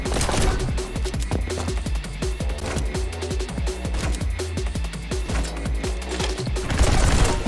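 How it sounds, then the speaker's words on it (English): Rapid bursts of enemy gunfire in the video game Neon White, a loud, dense stream of sharp shots and booms over a low rumbling music bed. "wait for the enemies to actually shoot you, so that way you can shoot their bullets and get an additional speed boost"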